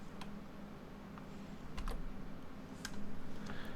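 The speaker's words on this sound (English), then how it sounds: "I'm going to press M on my keyboard one more time." A few faint, scattered keyboard key clicks over a quiet background hum.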